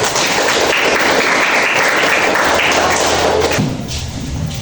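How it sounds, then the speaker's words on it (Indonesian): A classroom audience applauds a group presentation with dense, steady clapping that fills the room, thinning slightly toward the end. "Beri aplaus kepada teman kalian."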